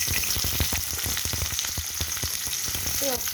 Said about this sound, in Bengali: তেলটা আমার গরম হয়ে গিয়েছে, এখন আমি দিয়ে দিচ্ছি পেঁয়াজটা